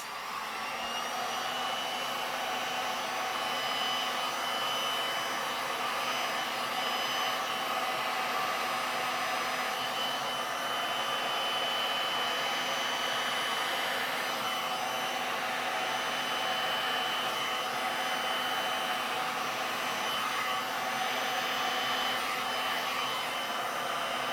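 A hair dryer blows air over poured resin art, a loud, unbroken whooshing drone that holds steady for the full stretch with no talk.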